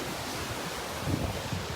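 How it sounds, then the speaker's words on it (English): Water lapping at a shore outdoors after rain, a continuous washing, surf-like rush with some wind noise on the microphone and a few slightly louder swells. "the lapping water."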